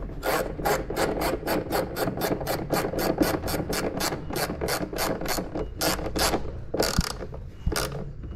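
A ratchet tightens a nut onto a washer while fitting a cool air panel on a 2022 Kawasaki Ultra 310 jet ski, a rapid close series of regular clicking strokes that continues steadily, with slight pauses near the end.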